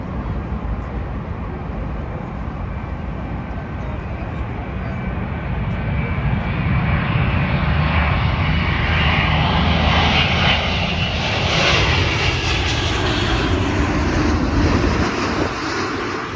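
A passenger jet comes in to land at Heathrow Airport, its engine roar swelling steadily and then easing off over about sixteen seconds, heard from a distance outdoors.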